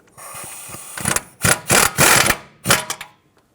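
A ratchet snugging a tie rod mounting nut through the steering knuckle of a 2008-2020 Dodge Grand Caravan, heard as loud, close bursts of rapid clicking in several separate strokes with short pauses between.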